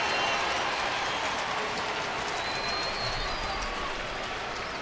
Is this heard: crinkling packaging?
no